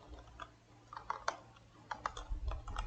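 Computer keyboard typing during coding, irregular clusters of crisp key clicks close by with short pauses between bursts, fairly quiet, no speech.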